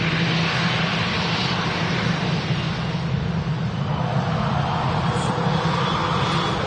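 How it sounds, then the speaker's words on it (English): An EasyJet Holidays airliner in special livery passes at Manchester Airport on a windy day, a steady, loud, broad roar that holds for the whole stretch with no voices over it. "I wait until this aircraft goes past."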